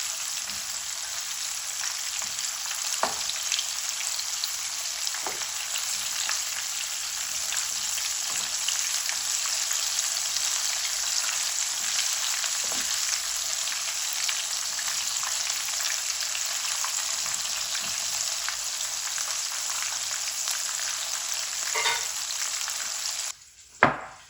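Food sizzles steadily in a hot pan right after being flipped, a continuous close hiss that holds evenly with a few faint clinks and no voices, ending in a brief knock.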